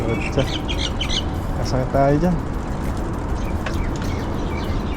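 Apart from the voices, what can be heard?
crow calling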